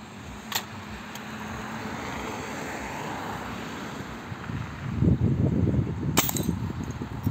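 Air rifle fired at a bottle outdoors: a couple of sharp, short pops standing out over steady wind noise on the microphone, with a louder rumbling gust near the end.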